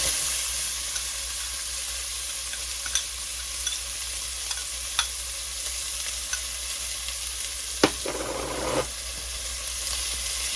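Minced onion, about 130 grams, hits melted butter in a pan for deep dish pizza sauce, giving a continuous loud sizzle with occasional soft clicks and a short scrape of stirring, with no talk.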